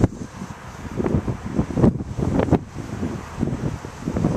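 Wind buffets a microphone outdoors on a gusty day, a rough low rumble that surges and fades in uneven bursts, fairly loud and close with no talking.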